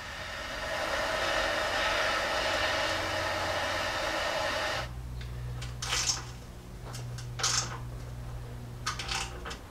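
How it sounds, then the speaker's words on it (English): A MAP gas torch roars steadily while heating a rusty bolt inside a Dodge Ram's driver's side wheel well, then cuts off, leaving a lower hum with several sharp metallic clinks and taps. "So I'm going to heat it up with a map torch."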